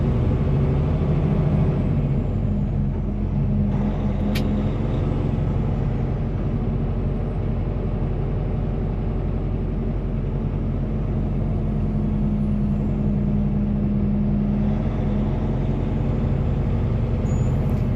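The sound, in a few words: rush hour traffic around Baltimore from a Peterbilt 589 truck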